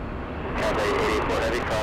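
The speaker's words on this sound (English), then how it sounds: "This is the only CRJ 900 that flies into LAX as a regular scheduled flight." An Air Canada Express CRJ 900 jet on final approach at LAX gives a loud broadband roar that swells after a moment, with a voice talking over it.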